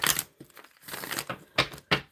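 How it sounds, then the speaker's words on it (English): A deck of tarot cards being shuffled close up during a live reading, giving a series of dry, papery riffling and crinkling bursts with short gaps between them, two sharp flurries near the end, and no voices. "I am going to be shuffling for the tarot to answer some questions"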